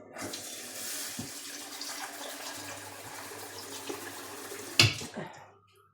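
Tap water running steadily into a sink while cooking rice, a moderate close rush with a clatter near the end before it stops.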